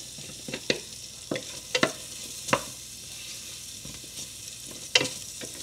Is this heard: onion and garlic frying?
yes